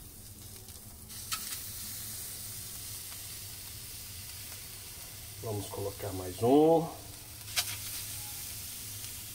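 Denver steaks sizzle on a hot charcoal grill grate over glowing embers, a steady frying hiss running throughout while a person speaks briefly over it.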